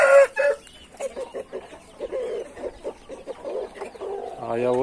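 An Indian game chicken clucks repeatedly in a steady series of short, close calls, ending with a louder drawn-out call, on a hot day.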